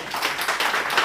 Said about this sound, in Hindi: तालियां ऐसी बजाइए कि शीशे चटक जाएं